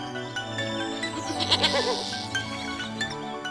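A cartoon goat grazing near a hill bleats in a kids' animation, a wavering close bleat set over soft music.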